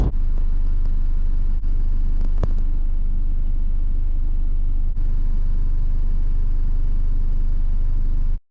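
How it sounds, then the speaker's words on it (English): Inside a car on an Australian highway, a steady, loud engine and road rumble drones on without a break as the car passes a truck. No voices are heard. "there's a truck coming up here, so I'm going to overtake it"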